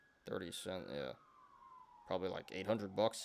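A police siren outside holds a steady wailing tone faintly in the background while someone talks over it.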